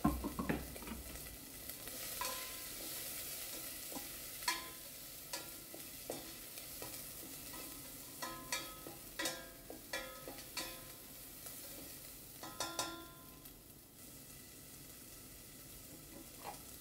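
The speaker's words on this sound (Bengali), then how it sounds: "লঙ্কাটাও দিয়ে দিই, তাহলে বেশ ভাজা ভাজা লঙ্কাটা হলে ঝাল হবে বেশ।" Chillies frying in oil in a pan give a steady sizzle, broken by repeated sharp scraping and stirring knocks that come in short bursts close by, with no talk over them.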